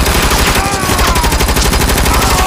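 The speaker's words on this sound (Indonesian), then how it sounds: "Wow, senjata mainan lagi." Rapid bursts of toy gun fire rattle loudly and continuously, a dense mechanical popping with high electronic whines layered over it, filling the whole stretch without pause.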